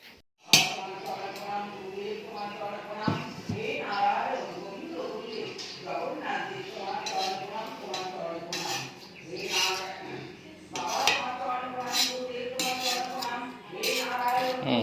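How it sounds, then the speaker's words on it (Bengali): Biryani is cut and lifted with metal utensils in a pot. Clinks, scrapes and knocks repeat up close while a person talks steadily over them. "এবার এটা কাটার পালা বিরিয়ানি কাটাটা একটা দারুণ আর্ট"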